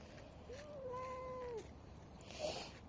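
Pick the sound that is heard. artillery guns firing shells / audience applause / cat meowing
cat meowing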